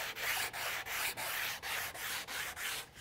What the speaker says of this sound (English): I'll come back with a sanding block with 150, 180 grit sandpaper